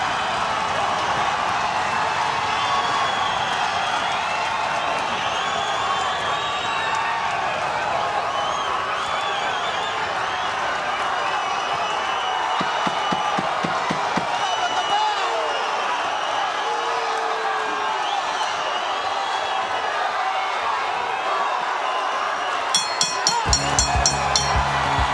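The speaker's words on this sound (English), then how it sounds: "The crowd is on their feet" Boxing arena crowd roaring and cheering through the closing seconds of a Mauricio Herrera vs Jesus Soto Karass fight, a steady dense wall of voices with scattered shouts and claps, building slightly near the end.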